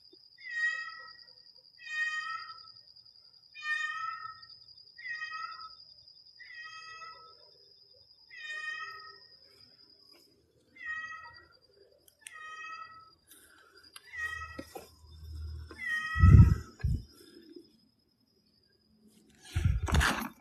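A cat meows repeatedly, a dozen or so short clear cries in a steady series, with a faint tonal background; later some close bumps and rustles end the passage.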